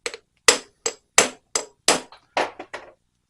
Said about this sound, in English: give it a couple love taps with a hammer